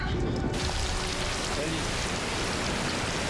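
Steady rain falls heavily as a broad, continuous hiss that fills the whole stretch at a constant level, with no clear voices above it.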